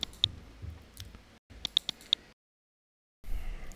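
Computer mouse clicking on a Windows 11 PC: several sharp, quiet, close clicks, one or two early and then a quick run of four, separated by short silent gaps, with no talking.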